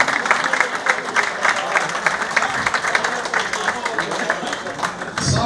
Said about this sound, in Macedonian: Еден аплауз за легендата на фудбалски клуб TEDx